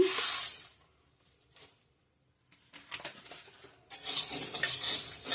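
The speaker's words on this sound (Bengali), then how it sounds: "শুকনো কলায় ভেজে নিব আচারের জন্য মৌরিটাও দিয়ে দেবো সবগুলো ভালো করে ভেজে নেব" Whole dried red chillies, coriander seeds, fenugreek and fennel dry roasting in a pan for a sweet-and-spicy jujube pickle, bursts of dry rattling and scraping as the spices are stirred, separated by near-silent pauses.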